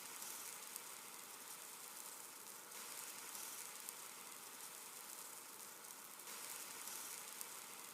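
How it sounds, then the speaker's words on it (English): Butter and an egg sizzle in a pan for a toasted ham, egg and cheese sandwich, a soft steady hiss with no other sound and no talking. "As the butter melts and the egg gently hits the pan, there's the calm in the sizzle"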